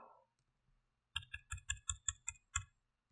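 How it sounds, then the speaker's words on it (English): Eight quick keyboard key clicks in a steady, even rhythm, crisp and close, with silence around them. "If you heard the clicking on my keyboard"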